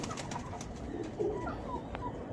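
Pigeon softly cooing a couple of times at close range over a faint noisy background, with no talk.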